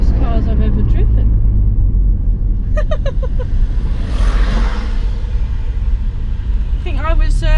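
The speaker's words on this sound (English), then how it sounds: "Apart from my work vehicles, this has got to be one of the newest cars I've ever driven." A Rover 45 car being driven, heard from inside: a steady low road and engine rumble runs throughout beneath someone talking at intervals.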